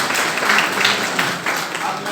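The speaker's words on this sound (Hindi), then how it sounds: "उन बच्चों के लिए तालियां बजाइए" Audience applauding in an auditorium at a school induction day, a dense, continuous wash of clapping heard close and loud, with a voice mixed in.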